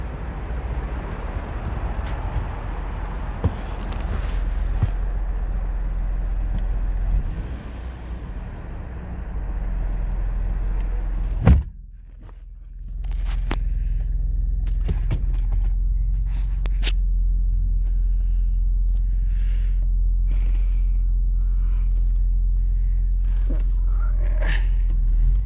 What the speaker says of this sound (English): Now we're going to go on a little bit of a test drive on the car.